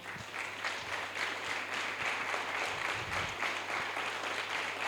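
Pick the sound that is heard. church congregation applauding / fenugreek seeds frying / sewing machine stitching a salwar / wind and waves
church congregation applauding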